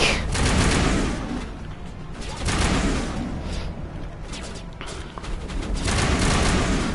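Gunfire in the Mass Effect 1 Legendary Edition video game, a dense, loud continuous fusillade of shots and thuds that keeps swelling and easing over several seconds.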